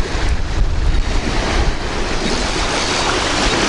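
Strong wind roars and buffets the microphone on an autumn lakeshore during fishing, with a steady broadband rush and low rumble throughout and no voices.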